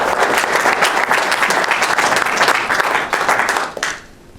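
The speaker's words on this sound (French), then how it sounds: "Je crois qu'on peut de nouveau l'applaudir." Studio audience applauding double Olympic judo champion Clarisse Agbégnénou during an interview: dense, loud sustained clapping for about four seconds, then quickly tapering off to near quiet.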